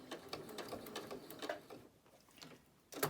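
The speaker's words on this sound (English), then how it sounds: "just turn my material, and then just stitch across that same line" Sewing machine stitching across a strip of fabric scraps for a lanyard, a quiet steady run of fast needle clatter that slows and pauses before starting up again at the close.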